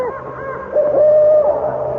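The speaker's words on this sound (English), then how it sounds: "It is just an owl." An owl hoots in a dramatic scene, a clear sustained tonal call that swells and holds, heard alone over a quiet background.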